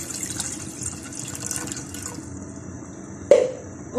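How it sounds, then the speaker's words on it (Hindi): Water poured steadily into a saucepan while making tomato chutney, a continuous close splashing rush that ends with a brief louder splash near the end, with no talking. "यहाँ सॉस पैन के अंदर सारा पानी डाल देंगे"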